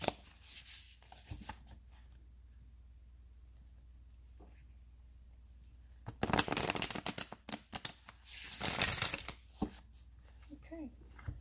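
An oracle card deck is shuffled in two bursts of crisp riffling and flapping, separated by quiet stretches, with faint voice sounds around them.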